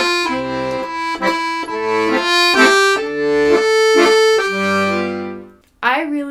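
A melody on accordion played with eight measures of bellows out and eight in, continuous sustained reed melody over pulsing bass chords, near and full, with a short break near the end.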